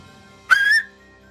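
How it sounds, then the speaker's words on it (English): A signal whistle gives one short, loud, shrill blast lasting about a third of a second, heard alone against a quiet background. "He's going to pull out his signal whistle and blow on it."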